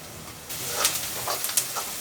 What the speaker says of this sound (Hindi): यहाँ पे प्याज भून रही हूँ।